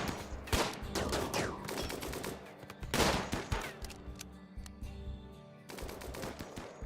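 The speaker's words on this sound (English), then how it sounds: "You can hear him trying to gun breach." Raiders in the video game RimWorld firing guns to breach colony walls: rapid bursts of automatic gunfire in clustered volleys, separated by short lulls, with sharp cracks standing out.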